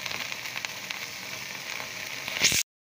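Garlic and ginger paste frying in two spoonfuls of oil, a steady close sizzle with faint crackles, swelling briefly louder near the end before cutting abruptly to silence.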